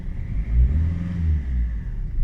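Up close, a car engine idling in cold, wet weather rises into a rev and eases back, a low throaty rumble with a steady hum, alone with no talking.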